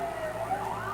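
A fire truck siren wails on its way to a fire, a steady rising tone heard from a moderate distance over a low engine hum.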